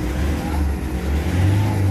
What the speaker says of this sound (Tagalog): So yan, naapakan ko accelerator.